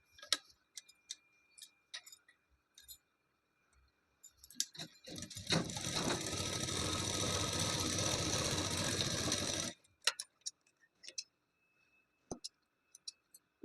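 A sewing machine stitches a blouse with elbow-length sleeves in one steady whirring run of about five seconds, framed by quiet ticks and small handling clicks before and after.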